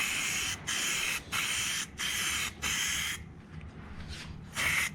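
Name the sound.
spray-coating Plasti Dip on a Ram truck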